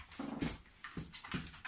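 A dog whimpers indoors in soft, short, uneven yelps and whines, quiet and close with a few brief pauses between them.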